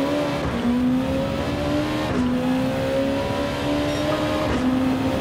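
Nissan GT-R GR2 race car engine in Gran Turismo 7 at Spa, a steady loud high-revving drone with rising pitch sweeps through gear changes, continuous throughout with no talk.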